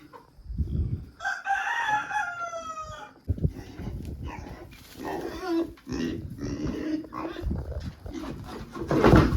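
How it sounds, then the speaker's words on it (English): A rooster crows early on, followed by a busy mix of clucking and squawking birds, fairly close, with some talking in the background. "there's a bunch of little chickens in here"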